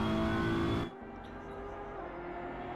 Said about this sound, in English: You can hear the throat of that BMW